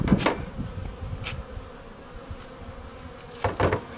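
Steady low insect buzzing from many honey bees in a hive during an inspection in Colorado, close and continuous, with a few louder bursts as individual bees pass near.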